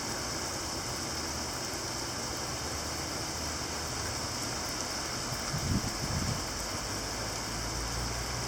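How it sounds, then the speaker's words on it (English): A decent summer storm downpour pours down as a loud, continuous wash of rain, with a brief low rumble swelling near the end before the steady hiss returns. "Decent downpour."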